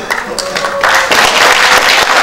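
Applause from a crowd at a Bareunmirae Party leadership convention erupts after a short stretch of speech, swelling into dense, steady clapping that fills the hall and holds through the end.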